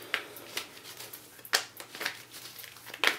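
Tarot cards are shuffled by hand in short, irregular bursts of crisp riffling and slapping, close and fairly quiet, with brief pauses between.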